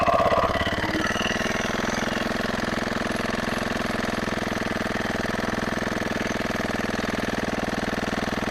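A rotary tiller's small engine runs steadily at idle, a loud, close, even chugging with a rapid regular pulse and no voices over it.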